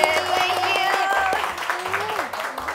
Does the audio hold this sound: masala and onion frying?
no